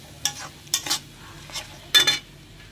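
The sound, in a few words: spice paste frying and stirred in oil for katla fish curry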